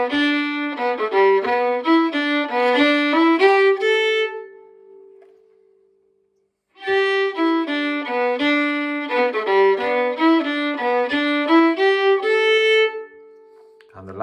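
The third phrase of the hornpipe Master Shanley's is played twice on a reedy, horn-like melody instrument, quick bright notes in a lilting rhythm, with a short pause between the two passes.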